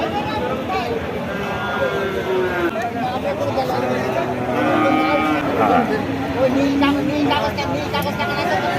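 Cattle moo repeatedly at a livestock market in Chaugachha, Jessore, during light drizzle, with several drawn-out bellows close by while people talk and murmur in the background.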